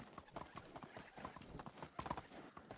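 Horse hooves clip-clop at a steady trotting rhythm in the medieval village game Medieval Dynasty, close and continuous, with a brief whinny mixed in.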